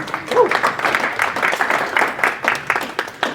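Audience applause at a tech meetup, a steady wash of many hands clapping at moderate volume for a few seconds, with some voices mixed in.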